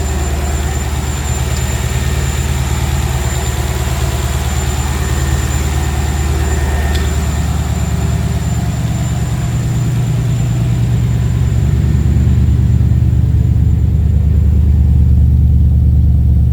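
A Mercedes M113 5-litre V8 swapped into a Ford Capri, running smoothly at a steady idle with a deep, continuous rumble, loud and close, with no talk.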